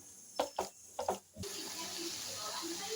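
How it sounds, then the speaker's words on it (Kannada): Half a cup of water poured into a pan of restaurant-style chicken curry, a few brief knocks and clatters first, then a steady hissing pour that runs to the end. "ಇದಕ್ಕೆ ಸ್ವಲ್ಪ ನೀರು ಸೇರಿಸ್ತಾ ಇದ್ದೀನಿ, ಒಂದು ಅರ್ಧ ಕಪ್ ಅಷ್ಟೇ"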